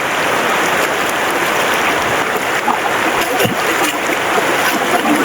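River water rushes continuously at River Ranch in Tanay, Rizal, a loud, close, unbroken wash of flowing current with faint splashes mixed in.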